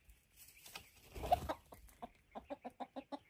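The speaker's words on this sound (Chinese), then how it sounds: "这只母鸡刚才是想准备在这上面产蛋" A hen clucks in a steady run of short, evenly spaced calls on a rural hillside, close and fairly quiet, after a softer stretch of rustling.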